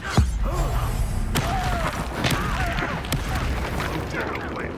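A Confringo blasting spell bursts in Hogwarts Legacy, a sharp boom at the start followed by crackling and rumbling combat noise, with voices talking over the ongoing fight.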